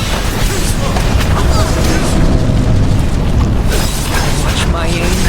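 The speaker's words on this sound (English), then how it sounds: "the apparatus may be ancient, but the cannons still fire." Ancient cannons fire in a Visions of Mana battle, heavy booms merged into a loud, continuous wall of rumbling noise with a voice speaking over the top throughout.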